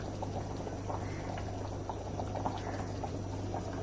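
A pomfret curry pot bubbles at a steady rolling boil, a soft continuous gurgle with no voices.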